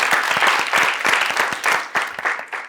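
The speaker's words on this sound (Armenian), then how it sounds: "Չարենցի հետ բարձր ծափարենք" Audience applause at an Armenian comedy evening show, a dense sustained burst of many hands clapping in a hall, steady and loud throughout with slight swells.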